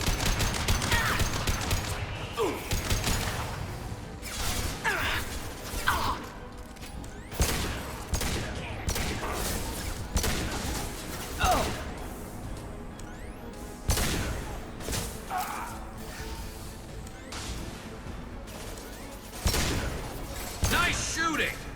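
Rapid gunfire from the video game Mass Effect 2 crackles in repeated bursts and sharp reports across a combat scene, with voices talking intermittently over the shooting.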